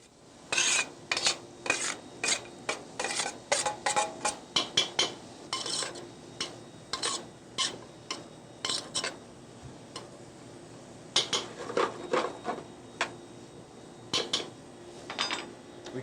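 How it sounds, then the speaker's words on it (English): Yellow bell pepper and onion sweating in butter in a pan for a pepper vinaigrette, with repeated sharp clinks and scrapes of a utensil against the pan in irregular bursts, and no talk. "The chef starts a pepper vinaigrette by sweating yellow bell pepper and onion in butter."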